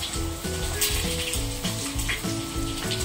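Cumin seeds and red chillies fry in oil with a dense, continuous sizzle and hiss, heard close up over faint background music, with no talking.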